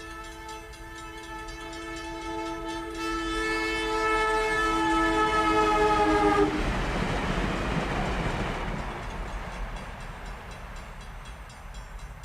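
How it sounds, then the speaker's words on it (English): An electric train approaches and rushes past, its horn sounding a long steady tone before giving way to a loud rumbling roar that slowly fades. "we're adjacent now, or even beside, the electric train tracks. And fortunately, one's coming along."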